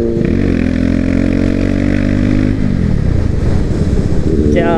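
A sport motorcycle engine, heard among Kawasaki Ninja and Hayabusa bikes, revs loudly and continuously up close in a steady high-pitched roar, with a deep throbbing rumble and a brief dip midway.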